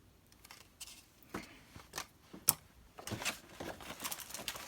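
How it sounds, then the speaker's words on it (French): Squares of material for a homemade box are cut with scissors, producing a string of faint, irregular snips and crisp clicks up close in a quiet room. "Et en fait, je vais couper mes carreaux."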